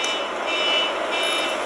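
An alarm goes off during a live stream, holding a steady, continuous electronic tone at moderate loudness for the whole stretch, with no voices over it.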